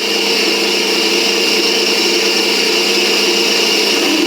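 Electric mixer whirring steadily at high speed while blending frangipane almond cream for a galette des rois, a loud constant motor hum with no breaks and no voices.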